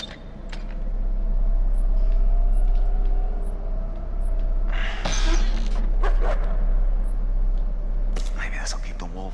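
A dog barking and whimpering in the video game Until Dawn: sharp yips and short whines break through a steady low hum at moderate loudness, with a soft voice murmuring nearby.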